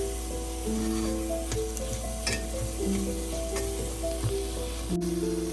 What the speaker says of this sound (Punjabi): ਹੁਣ 1 ਮਿੰਟ ਇਹਨਾਂ ਨੂੰ ਭੁੰਨਾਂਗੇ ਜੀ